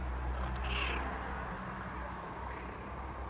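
A single cat meows once, short and faint, over a steady low background hum, with no talking.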